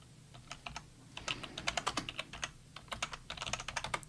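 Rapid typing on a computer keyboard, close and clear: bursts of crisp key clicks in an uneven rhythm with brief pauses, no talking.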